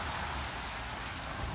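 Hail falling outdoors in a steady, dense patter of small pellets striking surfaces, a continuous even hiss with no voices.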